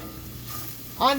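Red onions sautéing in a pan give a soft, steady sizzle, then a brief louder scrape or stir near the end, close and alone with no talk.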